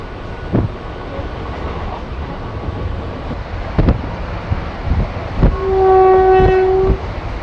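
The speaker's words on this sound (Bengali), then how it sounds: "ট্রেন বেশ ভালো স্পিডেই চলছে" A Katwa–Nimtita passenger train runs at speed, its wheels thudding over rail joints in a rhythmic clatter, with a loud sustained horn blast near the end.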